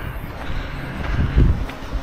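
Steady wind rushing and buffeting outdoors, with low rumbling gusts that swell briefly in the middle and no voices.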